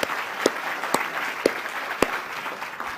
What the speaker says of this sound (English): I think that warrants another round of applause